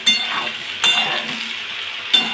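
Potatoes stir-fried in a pan for a vegetarian aloo posto curry, a steady close sizzle broken by a few sharp scrapes of the stirring spoon, with no voices.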